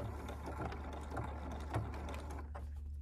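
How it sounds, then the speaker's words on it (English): A sewing machine back stitching along the edge of a batik zip case, a fast rhythmic mechanical clatter of gears running close and fairly quiet, stopping abruptly near the end. "I want to put my needle down, and then I'm going to back stitch"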